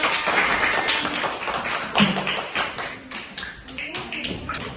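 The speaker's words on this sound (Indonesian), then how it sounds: "Beri tepuk tangan." An audience claps their hands at a community event, with scattered, uneven claps rather than a full ovation, alongside background chatter and shuffling.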